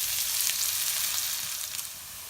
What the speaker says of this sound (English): the onion and cumin now been cooking for roughly about 3 to 4 minutes